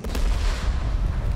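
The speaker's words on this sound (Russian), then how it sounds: "Сейчас взрыв будет." A loud, close explosion from the video game Deep Rock Galactic fills the moment with a deep rumbling blast that rolls on for over a second.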